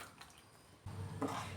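Ground coconut paste is poured into a simmering fish curry: a brief, close, wet pouring splash starts about halfway through after a quiet moment, with no talking.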